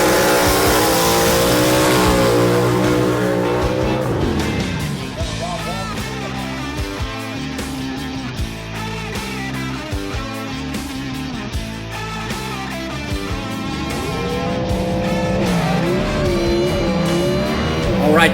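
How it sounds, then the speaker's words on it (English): Loud A/Gas gasser drag race cars scream at launch at a dragway, then rev up and drop repeatedly as gears shift, tire noise mixing in, with some voices underneath. "These guys will be ripping through gears for all of you to hear the high-pitched noises."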